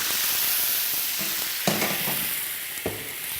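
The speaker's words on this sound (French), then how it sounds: "on va déglacer la poêle au vinaigre de Xérès" A frying pan deglazed with sherry vinegar after searing foie gras escalopes, giving a steady close sizzle that stays fairly even, broken by a couple of brief sharper bursts and clatters.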